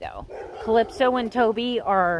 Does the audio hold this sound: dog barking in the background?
yes